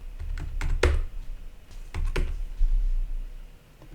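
Typing on a computer keyboard while editing text, a few scattered key clicks and short bursts of tapping, close and distinct over a low steady hum.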